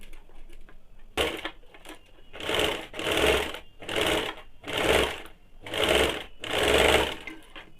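A sewing machine stitches lace onto a kaftan nightie in a series of about six loud, close bursts of running, each lasting under a second, separated by brief quiet gaps after a faint start.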